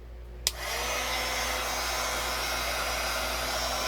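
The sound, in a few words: embossing heat gun blowing hot air on alcohol ink tumbler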